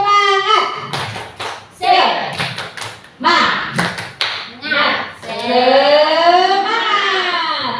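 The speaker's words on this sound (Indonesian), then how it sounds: "Tepuk semangat." A seminar audience in a school training session performs a rhythmic spirit clap, bursts of sharp claps in a patterned sequence mixed with chanting voices and a leader speaking between them.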